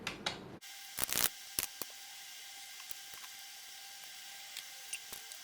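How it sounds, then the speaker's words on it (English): Quiet papery snaps and riffles of tarot cards being shuffled, with a few crisp flicks and soft taps against a faint hiss. "I'm shuffling live and I'm going to fast forward the shuffle."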